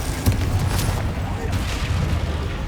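A Confringo spell blast in Hogwarts Legacy, a short, dense burst of booming, crackling impacts that stays loud and continuous under the game's mix.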